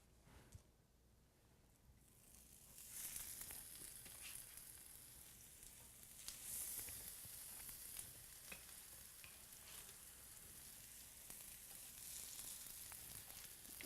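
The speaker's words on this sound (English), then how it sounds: "we're ready to begin pan frying our burgers" Burgers sizzle and crackle steadily in a frying pan for Greek burgers, with a constant close hiss and small pops that grow louder after the first few seconds, and no one speaks.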